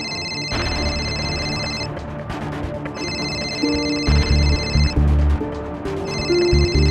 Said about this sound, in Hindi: आपकी वाइफ का फोन आ रहा है।